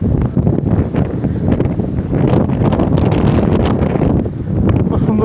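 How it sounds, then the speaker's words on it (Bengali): Cool sea wind at Mirissa Beach, Sri Lanka, beside the Indian Ocean near a coconut hill, roars loudly and steadily against the microphone in gusty low-frequency bursts, with no clear talking. "খুব সুন্দর বাতাস, ঠান্ডা বাতাস আসছে।"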